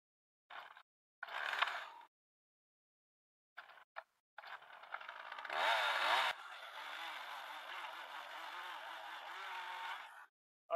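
A chainsaw cuts into a treated wooden telegraph pole outdoors. Several short bursts of revving come first, then a loud, steady cut of about four seconds that ends abruptly.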